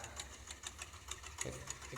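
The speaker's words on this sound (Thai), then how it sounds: "รถไถนาเดินตามเลยเนาะ" A walk-behind tractor's small engine runs steadily nearby with a rhythmic, rapid chugging and periodic ticking, mechanical and moderately quiet.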